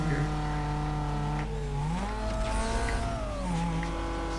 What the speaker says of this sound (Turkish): Bu arabanın sesi de güzel yani.